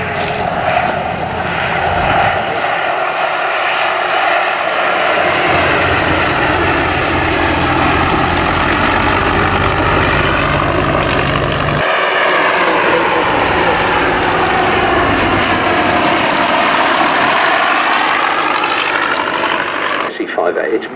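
A Bristol Fighter biplane with a Rolls-Royce engine flies at a June flying day at Old Warden, its loud engine droning continuously and swelling as it passes, with a voice talking over it.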